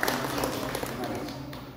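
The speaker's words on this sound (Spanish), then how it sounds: "Fuerte aplauso para esta niña," Crowd applause at a Mexican boxing weigh-in ceremony, a steady wash of clapping through the whole stretch with a voice talking loudly over it.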